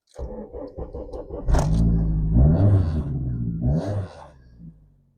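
A Vauxhall Corsa B with a new turbo engine cranks with a whirring starter, catches and fires up, then revs in a couple of close, loud swells before settling back toward idle.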